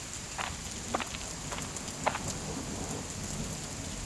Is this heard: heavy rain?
yes